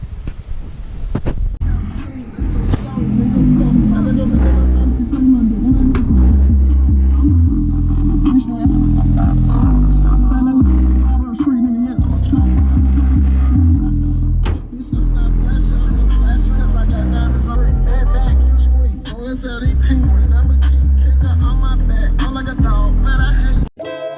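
A Honda S2000 with its top off drives along, its engine rumbling low and steady under strong wind buffeting, while someone talks over the noise.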